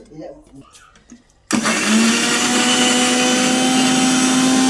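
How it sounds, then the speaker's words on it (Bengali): An electric kitchen blender starts abruptly and whirs loudly and steadily while blending onions, running without pause to the end after a brief stretch of quieter background sounds. "এখন আমি পেঁয়াজ ব্লেন্ডার করব"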